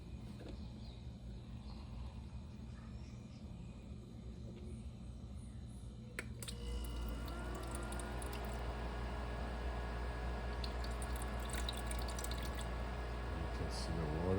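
An Igloo mini ice maker with a water-not-rising fault starts up partway through, its low steady motor hum and pump gurgle joining a quiet background and continuing close and even under brief talk.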